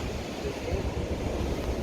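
Atlantic surf rolling in at Lahinch on Ireland's west coast, a steady broadband wash of waves with wind buffeting the microphone, continuous and fairly loud with no distinct breaks.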